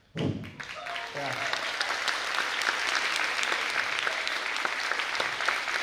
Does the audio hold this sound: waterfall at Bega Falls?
no